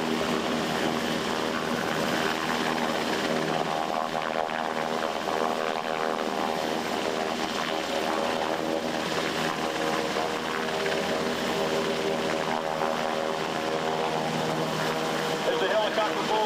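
A helicopter hovers overhead at a special operations forces demonstration in Tampa, lifting assaulters on a rope, its steady rotor and engine drone loud and continuous throughout with a voice talking underneath.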